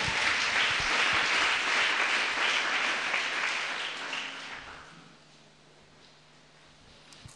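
A church congregation applauds in a sustained, dense burst of clapping that holds for several seconds, then fades away into quiet room tone, with no talk.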